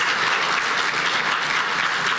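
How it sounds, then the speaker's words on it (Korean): An audience at a university inauguration worship service applauds five professors who sang a choral blessing, a thick, continuous wash of clapping from many people, steady and fairly loud throughout the short stretch. "멋진 축가로 섬겨주신 5분의 교수님들께 다시 한번 박수 부탁드리겠습니다."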